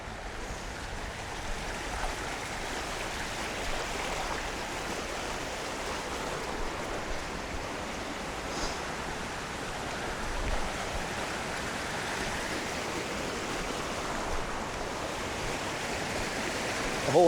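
A waterfall and flowing stream at a natural swimming spot give a steady, broadband rushing wash of water, even and unbroken from start to finish, moderately distant and alone.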